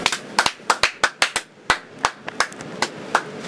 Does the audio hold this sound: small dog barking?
no